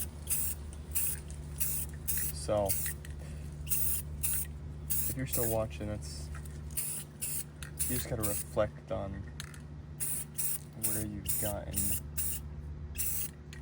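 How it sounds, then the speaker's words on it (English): Aerosol spray paint being applied to Honda S2000 car parts in a driveway: repeated short hissing bursts in an irregular rhythm, close and fairly loud, with someone talking over them. "It's spray painting something."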